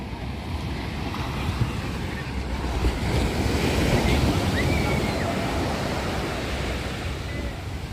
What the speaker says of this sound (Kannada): ಬನ್ನಿ ಅಲ್ಲಿ ಬೋಟ್ ಹೊರಟಾಯ್ತು ನೋಡಿ ಈಗ